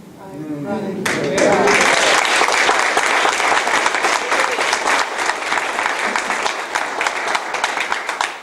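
An audience bursts into loud, sustained applause after a speech about I-594 background checks, breaking in over a voice that trails off at the start, then continuing as a steady wash of clapping that stays strong to the end.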